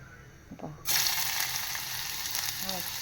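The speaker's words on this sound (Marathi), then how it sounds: "आता मी यात टाकून देते कांदा" Chopped onion drops into hot oil in a pan for surnachi bhaji, and a sudden loud, close sizzle bursts up and then holds steady as a continuous hiss, with no talk.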